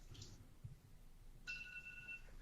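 A mobile phone gives a short electronic ring with a steady two-tone beep. It sounds faint and distant in a quiet radio studio.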